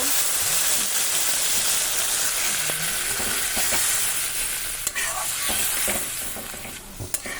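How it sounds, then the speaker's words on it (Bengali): Spices for ghugni fry and get stirred in a pan, a loud continuous sizzle with occasional scraping clicks of the spoon, no voices. "আমি মশলা কষিয়ে নেব"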